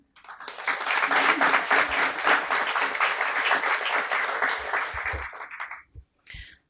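A room of people applauds at a guide dog graduation ceremony, warm, steady clapping that holds for about five seconds and then tapers off, followed by a couple of stray claps.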